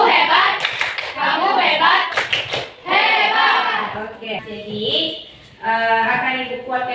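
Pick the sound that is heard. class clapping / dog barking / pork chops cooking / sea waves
class clapping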